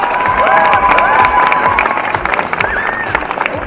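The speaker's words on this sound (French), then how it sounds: "applaudissez-le très fort." A convention audience at a cosplay contest applauds and cheers, with dense clapping, whoops and high shouts throughout, loud and close.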